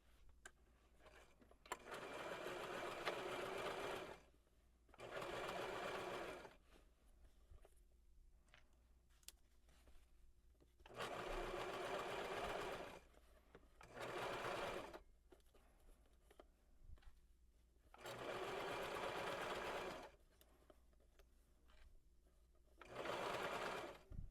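A sewing machine stitches through layers of dress fabric in several separate bursts, each a few seconds long, with quiet pauses between them.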